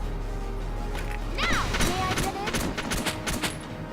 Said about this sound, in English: That was a lot of people shooting for no reason.